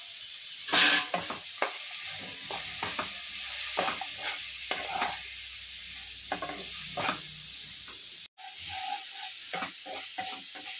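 Broccoli stir-frying in a pan with salt and pepper, a steady close sizzle broken by repeated scrapes and knocks of a stirring utensil, with a brief dropout near the end.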